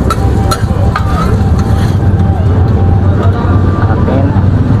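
Grilled meat is rewarmed on a hot street-food grill, sizzling loudly and constantly up close, with traffic rumbling behind and people talking over it.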